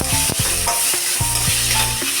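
Chopped tomatoes fry and sizzle in a pan for soya chunk kurma while a spoon stirs and scrapes repeatedly, steady loud sizzling beneath several clanking, scraping strokes, close up with no voices.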